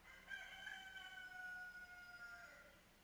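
A rooster crows on a quiet morning, a single drawn-out cock-a-doodle-doo that rises and holds for about three seconds, fairly faint and heard from some distance with no voices over it.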